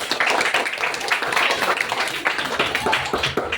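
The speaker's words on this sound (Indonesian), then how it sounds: "tepuk tangan untuk Agra" Brief clapping from a fourth-grade class in a classroom, a short burst of many hands that stays loud and busy for a few seconds.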